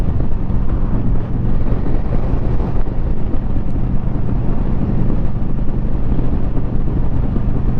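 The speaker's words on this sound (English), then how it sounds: "Oh, it's super windy here." Steady, heavy wind buffeting the microphone, a constant low roar with rumbling gusts and no talking.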